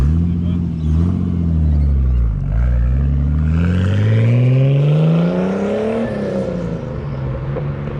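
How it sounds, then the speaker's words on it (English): A Nissan Skyline's engine runs close by, its tone rising and falling through revs in a smooth, loud drone, with a voice talking over it. "I swear, Angela Skyline sounds so good."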